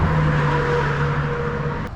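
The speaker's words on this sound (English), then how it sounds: "A lot of traffic." Road traffic beside the Erie Canal, a loud close vehicle passing with a steady engine drone and tire roar that slowly fades over two seconds.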